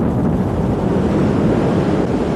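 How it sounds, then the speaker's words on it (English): Strong wind and surf pounding the shore as Hurricane Hugo approaches, a loud, continuous roar of rushing air and breaking waves with no clear pauses. "But the wind and the waves crashing in already are a signal Hugo may be bringing more than those here can outlast."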